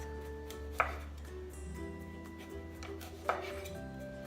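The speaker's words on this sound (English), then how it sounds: "cut the carrot, a whole carrot, on the bias" A knife cuts through a whole large carrot on a board with two sharp, distinct chops spaced a few seconds apart, while a low steady kitchen hum runs underneath.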